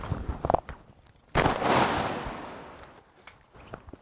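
Shotgun blast while duck hunting in flooded pecan timber, a single sharp report with a long fading tail, preceded by faint rustling and small knocks.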